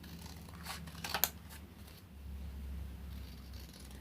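Scissors cut out a paper craft tag, giving a few soft close snips and rustles of paper, quiet, with a low hum behind and no talking.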